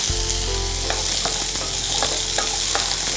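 Mango pieces sauté with small onions and garlic in a pan for a spicy chutney, giving a constant loud sizzle broken by a rhythmic series of spoon scrapes and taps as they are stirred.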